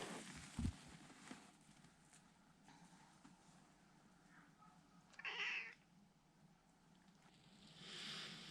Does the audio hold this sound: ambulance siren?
no